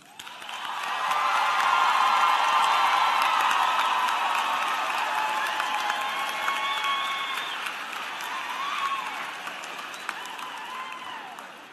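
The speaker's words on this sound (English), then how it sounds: "Please join me in applauding them." Audience applause for graduate honorees at a university commencement ceremony, a sustained broad wash of clapping with a few cheers and whoops mixed in, swelling early and tapering off toward the end.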